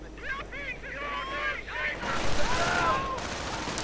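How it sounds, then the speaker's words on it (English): BAR gunfire rattles in bursts within a video game battle, sitting far back under a steady wash of wind and combat noise while a caster talks over it. "Heavy BAR fire taking their toll."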